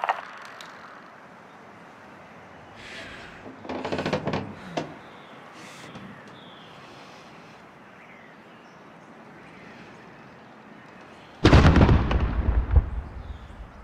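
Gunfire in a Warzone battle royale match, heard as a burst of shots around the middle and a louder, closer volley near the end, with quiet ambient stretches between.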